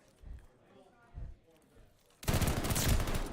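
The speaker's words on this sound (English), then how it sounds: "We can hear their bullets, and hearing bullets is never good." Gunfire in the video game Call of Duty: Vanguard, a few faint distant shots followed by a loud, dense burst of rapid firing.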